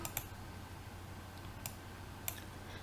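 A computer mouse clicks the open button in Inventor CAD software: a few faint, crisp clicks spaced apart over a steady background hum.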